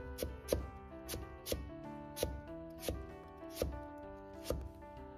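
A knife slices potatoes into thick pieces on a cutting board, with about eight sharp, evenly spaced chops, close and distinct, and no talk.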